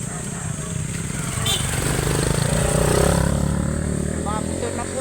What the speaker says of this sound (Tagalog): Mga motor na po yan.